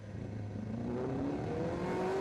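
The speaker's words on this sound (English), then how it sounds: "That is the unmistakable Melco hairpin, and that is the unmistakable Michael Rutter exiting it. Just listen to the revs." A racing motorcycle at the Macau Grand Prix accelerates out of the Melco hairpin, its engine note climbing steadily in pitch as it revs hard, loud and close, with no voices.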